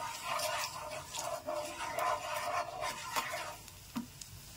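Food frying in hot oil in a pan sizzles steadily while a utensil scrapes and stirs in repeated rhythmic strokes, close and fairly soft, with no voices.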